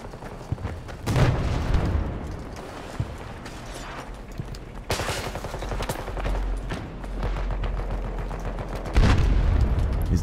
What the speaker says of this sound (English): There's an enemy tank here that needs shooting.